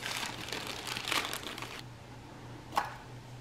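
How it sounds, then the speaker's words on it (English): Gifts being unwrapped at home during a sister gift exchange, with close crinkling and rustling of wrapping paper in short bursts and a sharp crackle near the end. "we're going to unwrap some of the gifts that we got each other"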